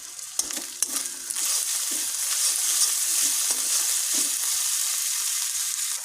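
Onion, tomato, green chilies, ginger paste and salt sizzle in a pan, a steady close frying hiss with a few clicks and scrapes of a spatula near the start, no voices.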